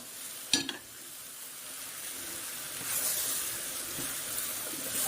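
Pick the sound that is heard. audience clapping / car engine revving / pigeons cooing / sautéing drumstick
sautéing drumstick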